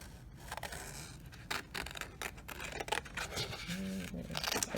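Scissors cutting a cardboard seahorse template in a classroom art session, a run of quick close snips and scraping cuts, with a voice talking faintly in the background.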